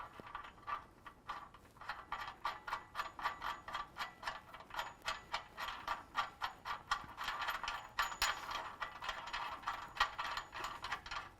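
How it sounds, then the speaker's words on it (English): A hand ratchet clicks rapidly in a long run of quick, even strokes while tightening the bottom bolts of a Rugged Ridge HD rear bumper on a Jeep JL, close up and fairly quiet. "So now I'm going to tighten this hardware on both sides on the bottom"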